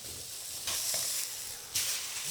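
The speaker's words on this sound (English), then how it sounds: "Now I want to sear this meat well, so just bring your shallots over the top so they don't burn." Meat searing in a hot wok with shallots piled on top, a steady hiss with two louder sizzling surges as the pieces are pressed or turned, close and without talk.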